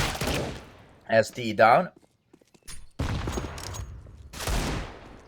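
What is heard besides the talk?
gunshots in a tactical shooter video game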